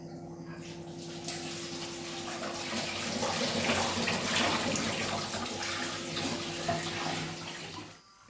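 Fenugreek leaves are washed under a running tap, making a continuous close splashing gush of water that swells slightly and then cuts off just before the end.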